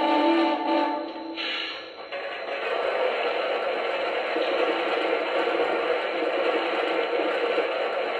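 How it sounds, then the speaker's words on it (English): Sound effect of coal being loaded into the tender of a Lionel Legacy Russian Decapod model locomotive in Frisco 1630 livery. Rough shoveling scrapes and rattles in the first couple of seconds give way to a steady, gritty rushing noise. "Here's the sound of coal being added."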